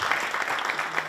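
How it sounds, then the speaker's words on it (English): An audience claps in a brief, dense burst of applause at the close of a talk at a developer conference. "give him a nice round of applause."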